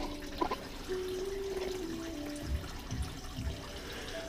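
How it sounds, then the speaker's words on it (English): Engine coolant draining from a lower radiator hose into a bucket under a single-cab Silverado: a faint, steady trickle with a few drips and light knocks in a quiet space. "So now we got the coolant draining into the bucket from the lower radiator hose."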